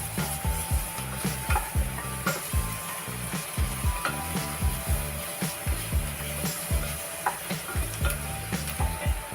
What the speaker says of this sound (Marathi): 1 चमचा आलं लसूण पेस्ट सुद्धा आपण शिजवून घेणार आहोत.